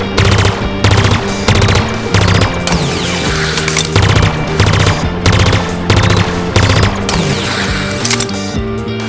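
The Pulse Carbine in Halo Infinite fires repeated 5-round bursts, loud and close, each burst a rapid cluster of energy shots separated by brief pauses, with steady rhythmic spacing throughout.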